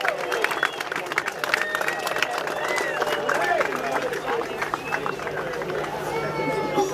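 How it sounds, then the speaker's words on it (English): An outdoor crowd at a pumpkin regatta cheers and claps for the Chiefs, a dense, steady roar of voices and applause that holds at full strength throughout, with people talking within it. "Let's give them a big cheer."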